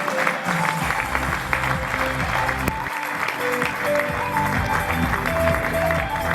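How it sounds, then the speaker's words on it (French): Audience applause welcoming Pierre Gattaz onto the stage at an economic forum, steady crowd clapping mixed with loud rhythmic music playing underneath, continuous and close. "Merci de l'applaudir comme il se doit"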